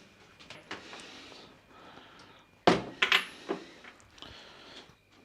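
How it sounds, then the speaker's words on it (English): A back door being opened at home in Wales: soft shuffling, then a sharp close thud of the latch and handle followed by a few quieter knocks and rattles, with faint movement around it. "Let me open the back door."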